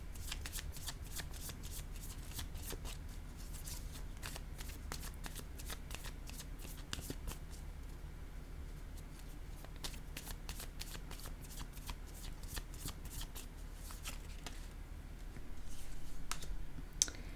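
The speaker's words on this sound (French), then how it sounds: "Je vais déposer une carte sur le triangle." Playing cards handled and laid down during a tabletop board game, giving a run of soft, close rustles and sharp little clicks and slaps, with a denser flurry near the end.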